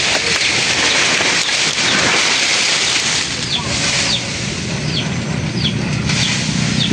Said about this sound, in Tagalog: Nag-uumpisa na naman po yung ulan